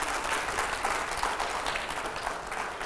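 Steady applause from a studio audience at a televised Hindi political interview during a rapid-fire round, sustained clapping that holds at an even level for the whole stretch with no voices on top.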